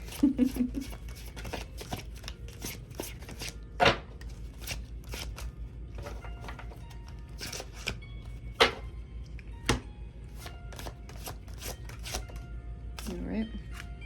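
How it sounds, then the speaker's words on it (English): Repeated crisp riffling and slapping of large tarot cards being shuffled, close up, in irregular bursts with brief pauses and a few louder snaps. "I have to shuffle these a little bit differently because of my tiny little hands"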